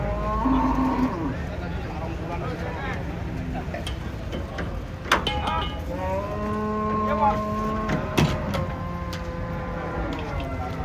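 Giant cattle on a truck arriving at a farm low and moo repeatedly, several drawn-out calls rising over steady engine rumble and background noise, with people talking nearby.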